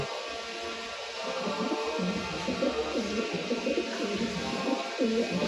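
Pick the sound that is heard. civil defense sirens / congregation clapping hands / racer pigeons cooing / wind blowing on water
racer pigeons cooing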